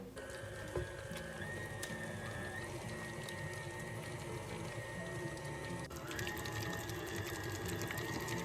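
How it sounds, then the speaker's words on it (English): A stand mixer blends jalapeño pimento cheese with a steady, faint motor hum and whir that continues unbroken, with a slight shift in tone partway through. "And then we're just gonna mix this up in our stand mixer."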